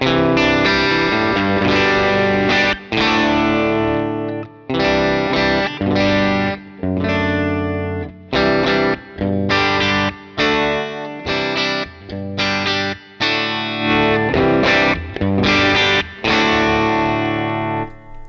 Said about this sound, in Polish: czyli steruję poziomem przesteru nie nogami, deptając różne tam stompboxy, czy kręcąc gałą tutaj, tylko na gitarze